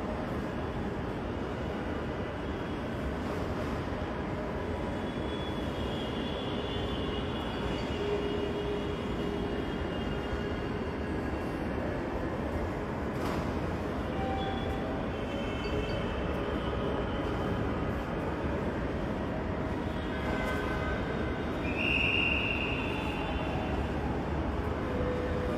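A Dhaka metro rail train runs from Uttara toward Motijheel, a steady, even rumble and hum of the moving train that continues unbroken throughout, with faint tonal whines drifting above it.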